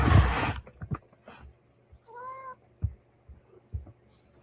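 A pet cat gives a single short meow close by in a quiet home, set among light rustles and handling noises before and after.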